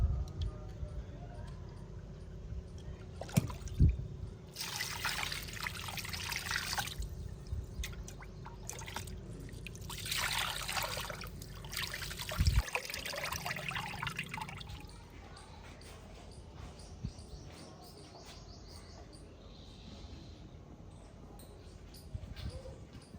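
Grains for khichdi rinsed in water, with sloshing and trickling bursts of splashing in irregular waves, close and moderately loud, mixed with some thumps, and quieter stretches toward the end.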